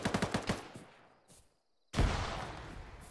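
Video game gunfire in a ShackTac military session at a factory, a rapid close burst of automatic shots that fades out, a brief silence, then another loud burst.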